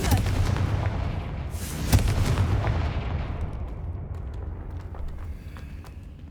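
Confringo fire spell explosions in the Hogwarts Legacy video game, a loud booming blast near two seconds over a dense rumbling roar that gradually fades.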